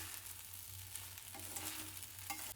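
Sabudana khichdi mixed with peanut powder is stirred in a pan, giving soft, steady scraping and light sizzling that stays quiet and continuous throughout.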